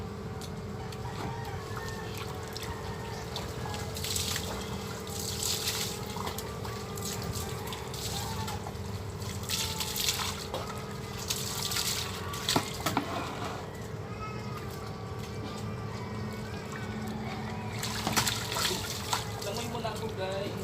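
Water trickles and splashes steadily into a container during a bath, with a continuous running sound throughout and occasional brighter splashes.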